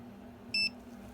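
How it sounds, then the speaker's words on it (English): A Kobalt 400A AC True RMS clamp meter gives a single short, high electronic beep as it switches on, clear against a quiet room hum. "so that you can hear the audible beep when they turn on"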